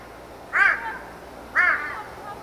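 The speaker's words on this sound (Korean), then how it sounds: "이게 까마귀 우는 소리입니다." A crow caws twice, two short harsh calls about a second apart, fairly close and clear over a quiet background.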